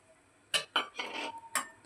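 Semolina being stirred in hot ghee in a pan, with a spoon scraping and clinking against the metal in a few short bursts, close and moderately loud, no talking.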